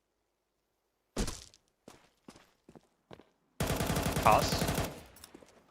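Sharp isolated gunshots from the video game CS2, wallbang attempts, pop out of silence, then a sustained rapid burst of automatic fire follows; a caster briefly speaks between shots.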